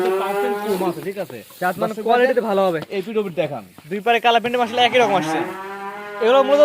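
Cattle at a farm selling medium-sized heifer calves moo loudly and repeatedly at close range in long, drawn-out calls, with voices mixed in among them.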